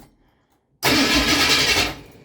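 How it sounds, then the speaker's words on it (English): The starter motor of a 1973 Ford Mustang cranks in one loud, steady, whirring burst lasting a little over a second. It begins abruptly after silence and then cuts off. "You just heard a lot of starter spinning noise and no engine turning noise."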